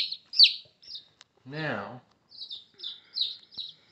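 Baby chicks being handled peep in short, high-pitched chirps, sounding close and repeated in quick bursts, with someone speaking briefly in the middle.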